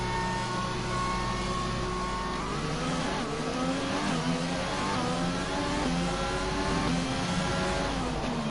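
A Formula 1 race car engine in the F1 2020 video game, droning steadily at high revs with rising and falling pitch as gears shift, loud and continuous with no talk.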